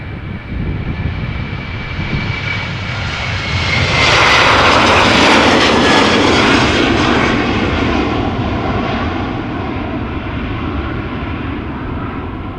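Airliner engines roar at Amsterdam Schiphol Airport, a loud sustained jet rumble that swells to a peak around the middle as the 19-year-old plane passes close, then slowly eases off, with no talk.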